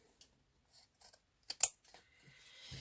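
Scissors trim the edges of craft paper in a quiet room, a few faint snips and clicks leading to one louder, crisp cut near the middle, followed by soft paper rustle.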